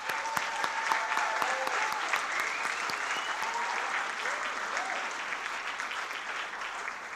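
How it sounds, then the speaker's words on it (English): A crowd at a neighborhood business awards ceremony gives a warm round of applause, dense and continuous with some sharp individual claps standing out, holding steady throughout. "give her another round of applause"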